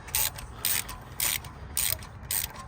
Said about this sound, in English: Turn the ratchet to tightening.